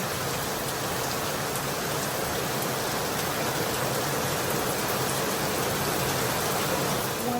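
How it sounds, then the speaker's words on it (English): Steady rain falls without a break, a dense, even hiss of drops close by that stays loud and constant throughout, with no voices. "I didn't realize we were getting more rain today."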